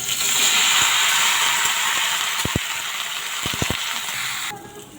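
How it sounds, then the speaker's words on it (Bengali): Teasel gourd and potatoes fry in oil left over from frying fish, giving a loud steady sizzle with a few sharp clicks of a utensil, then the sizzle drops away abruptly near the end. "কাঁকরোল আর আলুগুলি ভেজে নেব।"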